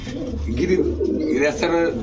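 A pigeon coos close by in low, throaty burbles at a pigeon sale, mixed with someone talking.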